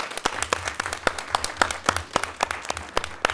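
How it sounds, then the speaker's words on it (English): Applause for a speaker at a lunch talk, a small audience clapping in distinct, sharp, irregular claps that sound close and fairly sparse, continuing steadily throughout. "Can we give him a round of applause?"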